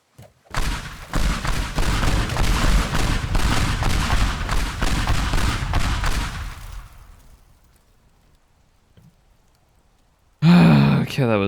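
Pipe bombs go off in the game Teardown, a rapid barrage of heavy booming blasts that roll together for several seconds, then fade into a quiet tail before a loud voice breaks in.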